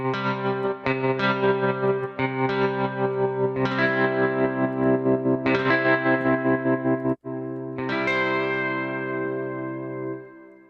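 Electric guitar from the Desolate Guitars instrument played with a tremolo effect, sustained chords pulsing in a steady rhythmic wobble, with a brief cut near the end before a final ringing chord fades out.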